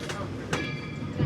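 The Disney World Magic Kingdom train pulls into Main Street Station with a low rolling rumble and a couple of sharp clanks, close by and brief.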